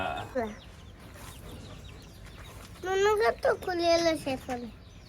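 Chicks cluck and peep in short, bright bursts at a small rooftop farm of native desi chickens, the calls clustering loudly near the end, with faint voices in the background.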